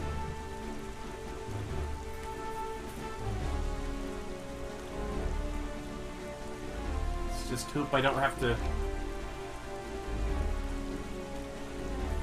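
Steady rain patters across the sea in the video game Zelda: The Wind Waker HD, with a brief burst of clattering drops partway through, while a person talks over it.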